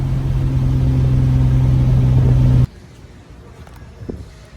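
Nissan 300ZX twin turbo pulling hard, a loud steady engine drone heard from inside the car for about two and a half seconds before cutting off abruptly to quiet cabin noise.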